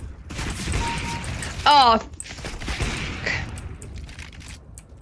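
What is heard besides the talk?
gunfire in a video game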